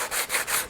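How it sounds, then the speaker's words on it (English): A laser-cut wooden piece is sanded by hand in three or four quick, rhythmic rasping strokes, close and fairly soft, with no voices. "I always like sanding it with my hands"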